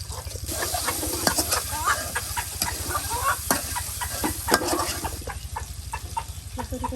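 Onions fry in hot oil in a pan for shrimp curry, giving a steady low sizzle and hiss at close range, with scattered clucks from chickens in the background.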